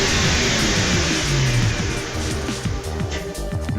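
An internal combustion engine revs with a steady mid-pitched drone and rhythmic rising pulses, loud and close throughout, with no talking.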